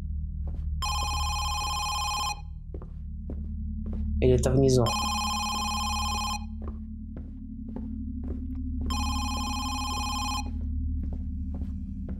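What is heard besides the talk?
telephone ringing in the video game Home Sweet Home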